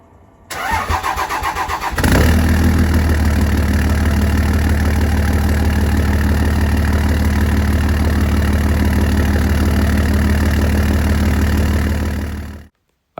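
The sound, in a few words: cold start of big turbo Cummins diesel engine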